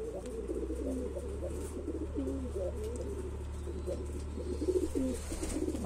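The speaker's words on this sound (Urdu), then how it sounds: "دیکھو بھائی یہ کبوتر جو ہے یہ کھانا یہ کو دانا نہیں اٹھا پا رہا ہے" A hungry Kashmiri pigeon struggling to eat coos in soft, repeated throaty phrases close by, with faint scattered taps and chirps over a steady low background rumble.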